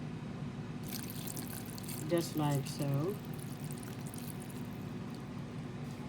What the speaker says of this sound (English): we're going to add in one or 2 cups of water